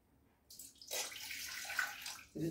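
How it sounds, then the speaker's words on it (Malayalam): Water poured from a tap into a cup for black coffee in a kitchen, a quiet room giving way to a brief splash that settles into a steady trickling stream, stopping and then restarting near the end. "ഒരു കപ്പ് വെള്ളം ഒഴിച്ചു."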